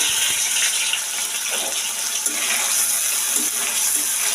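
Water runs steadily from a tap while a large wok is rinsed, a loud unbroken gushing splash with faint clatter underneath.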